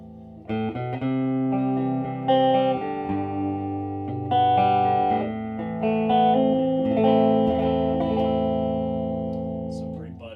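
Electric guitar switched to the neck pickup, playing sustained, warm chords shifting every couple of seconds through effects, close and steady with a soft fading tail.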